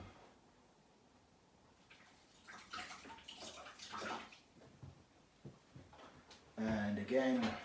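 Water runs and splashes faintly as a pH meter probe is rinsed under it, broken up by handling noises and ending in a louder burst of flowing water.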